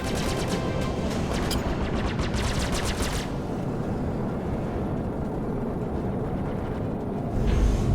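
In the video game Star Citizen, rapid gunfire hammers a ship's port shields in a burst of repeated cracks for about three seconds over a loud, continuous engine rumble, which then carries on alone.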